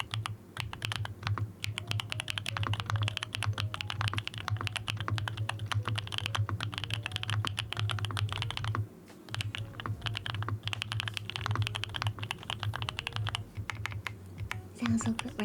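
Keys clack rapidly and continuously on a custom mechanical keyboard in a smooth, creamy ASMR style, with a dense close-up patter and a brief pause midway.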